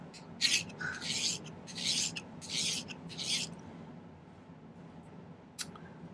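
Hand filing of low dome half round silver wire for a ring: five rasping strokes in steady rhythm, close and fairly quiet, then a pause with one short scrape near the end.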